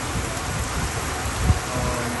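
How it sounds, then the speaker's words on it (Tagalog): Heavy rain pours down in the town of Kogo, a steady broadband hiss that fills the whole clip, with one brief louder thump midway and no talk. "grabe ang ulan."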